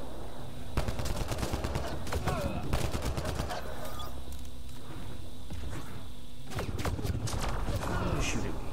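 Gunfire rattles through a Mass Effect Andromeda multiplayer match as rapid bursts of shots crack in clusters, fading and returning in a fresh volley near the end, with a player talking over the fight.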